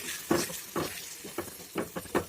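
Jaggery is stirred into pickle cooking in a pan, a soft sizzle broken by a series of quiet, irregular scraping strokes of the spoon, about six in quick succession.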